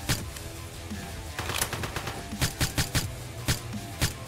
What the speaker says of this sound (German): ich schieße ihm so dreimal in den Kopf